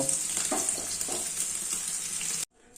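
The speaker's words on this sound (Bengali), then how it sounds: "পনিরগুলো প্রায় হালকা করে ভাজা হয়ে গেছে" Paneer pieces frying in hot oil, a steady close crackling sizzle with small pops that cuts off abruptly near the end, no voices.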